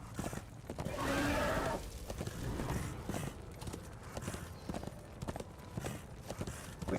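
Horse hooves clip-clop in steady rhythm in the video game Darksiders 2, mid-level and continuous, with a brief whinny near the start.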